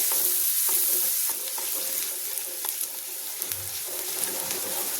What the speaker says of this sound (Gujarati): ડુંગળીને આપણે સાતળી લેવાની છે